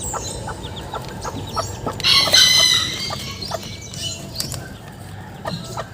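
A small flock of young chicks clucks and peeps nearby in quick, scattered calls, with a louder burst of chirping partway through over a low background hum.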